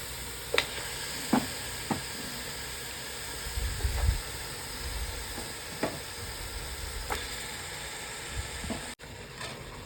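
Mutton pieces sizzle in fried spice masala for Dindigul mutton biryani, a steady hiss with occasional crackles and clinks of stirring, close and fairly quiet, with no talking.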